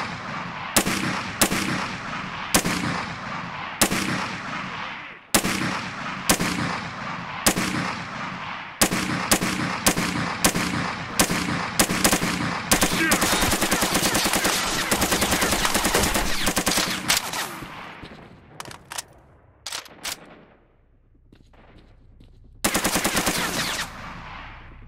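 Gunfire in the video game STALKER Narodnaya Solyanka: loud close shots come in a regular series, then quicken into a sustained automatic burst before breaking up into scattered shots and one final short burst, with no talking.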